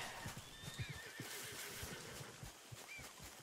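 A horse in Red Dead Redemption 2 gives a long whinny over steady clip-clopping hooves, with faint game ambience and no speech.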